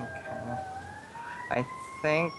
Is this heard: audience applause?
no